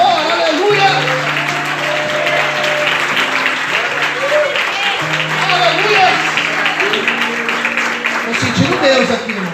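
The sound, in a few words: church congregation applauding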